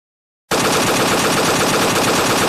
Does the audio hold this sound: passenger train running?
no